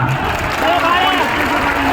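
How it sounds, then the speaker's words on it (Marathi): A large crowd applauds loudly and continuously at a Maratha community ghongadi meeting with Manoj Jarange, the clapping forming a dense, steady roar with some raised voices mixed in. "प्रचंड टाळ्यांचा कडकडाट करा"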